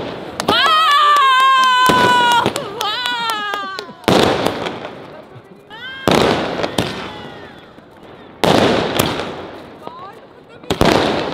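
Firecracker bombs burst outdoors at a family celebration with loud, close bangs and crackling fireworks repeating every couple of seconds, while people talk and exclaim over the blasts.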